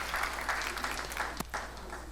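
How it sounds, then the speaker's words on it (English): An audience at an insurance brokers' workshop in Nigeria claps steadily for a speaker coming to the podium, a faint, dense patter heard from a distance with a low hum beneath. "let's give him a round of applause as we invite Mr."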